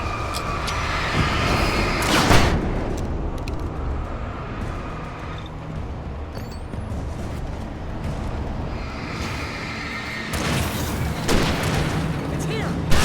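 Gunfire and explosions in the Alan Wake Remastered video game, with dense rumbling, several heavy booms and bursts of shots rising and falling under a loud, busy background.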